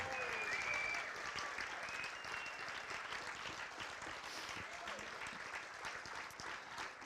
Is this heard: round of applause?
yes